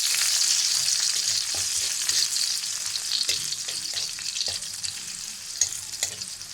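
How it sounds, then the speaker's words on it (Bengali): Chopped green chilies and onion hitting hot oil and butter, a loud, bright hiss of frying with intermittent stirring clatter, close and steady with no talking. "তেল আর বাটারটা গরম হয়ে গেছে। এখন দিয়ে দেব কাঁচামরিচ কুচি"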